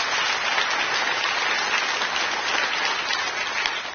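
Steady, dense applause from a live audience fills the whole stretch at even loudness, a broad continuous wash of many hands clapping with no voices over it.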